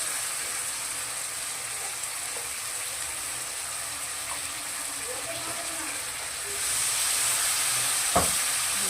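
Cashew paste goes into masala frying in a pan, and a steady, close hiss of sizzling oil and steam continues throughout. The sizzle grows a little louder near the end, and a faint voice can be heard behind it.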